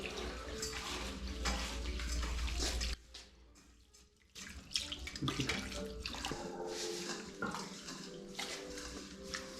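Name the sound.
washing rice with running water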